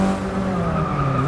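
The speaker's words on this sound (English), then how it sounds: "you can hear the bumping behind me" Race cars jostling and bumping at a race start in Forza Motorsport 6, heard as a loud, continuous blend of engine drone and skidding tires over about a second and a half, with no talking.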